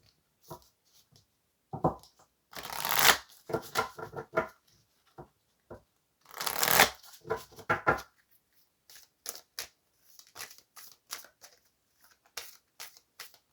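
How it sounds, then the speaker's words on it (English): A deck of oracle cards is handled up close, giving a few brisk riffling shuffles followed by a string of soft, scattered card taps and flicks in a quiet room. "So let's go ahead and get an oracle card here to confirm this."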